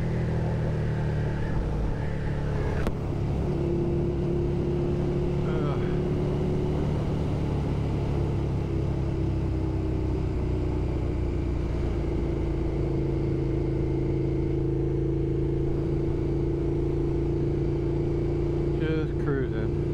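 Motorcycle engine cruising steadily along a road, a continuous loud low hum with wind noise throughout, and faint speech over it.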